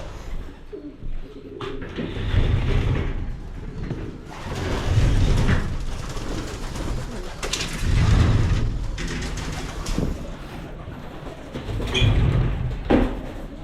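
Pigeons in a pigeon loft coo repeatedly in low, throaty rolling calls, several birds close by and overlapping, with soft rustling between the coos.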